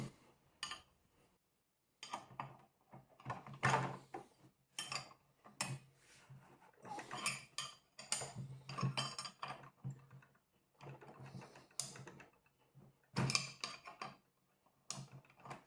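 Unscrewing a part from a salvaged item, a close series of small irregular metallic clicks, taps and scrapes from tool and screw, coming in uneven bursts with brief pauses, with no talk.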